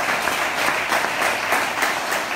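Steady applause from a church congregation, dense and fairly loud, a continuous wash of many hands clapping with no speech over it.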